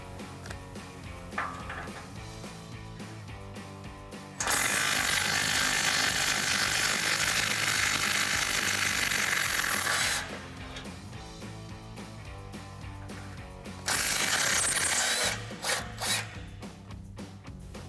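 Ratchet loosening 14mm factory exhaust bolts on a Toyota Tundra: repeated clicking pawl strokes close by, broken up by two long spells of loud broadband rasping and scraping, with no talk.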